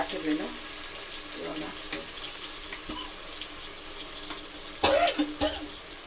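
Sprouted legumes being rinsed under running tap water in a sink, a steady trickle with a louder splash burst near the end.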